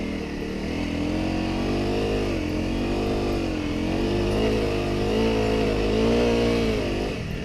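Small dirt motorbikes ride through soft, whooped sand along the Murray River in South Australia, engines droning and rising and falling in pitch as they work through the bumps, loud and continuous throughout.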